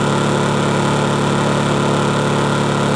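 A Honda generator running in Eco mode at lowered RPM, a steady, loud, continuous engine hum with no break, close by and alone.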